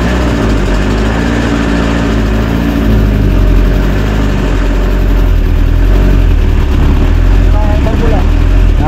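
A triple Z engine idles steadily and loudly after starting, a constant low, rumbling drone that holds an even level throughout.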